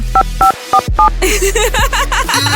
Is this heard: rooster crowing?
no